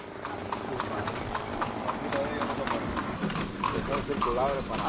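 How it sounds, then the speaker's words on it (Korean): A horse pulls a carriage taxi through Camagüey, Cuba, its hooves clip-clopping in a steady rhythm from close by, with people talking over the clatter. "저는 지금 마차 택시를 타고 있는데요."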